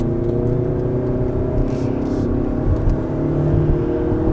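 Steady engine drone of a 2019 Hyundai Santa Fe SUV at full throttle, a low, muffled roar under acceleration, fairly subdued and continuous, with no voices.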